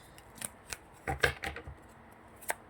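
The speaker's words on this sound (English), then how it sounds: "Let me shuffle these again." Tarot cards shuffled by hand in a few short, soft riffling bursts separated by brief pauses, close and quiet in a still room.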